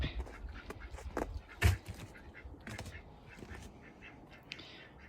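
Ducks quack inside a backyard duck coop on a Minnesota homestead, a busy scatter of overlapping calls, fairly soft and close, with one sharper call standing out.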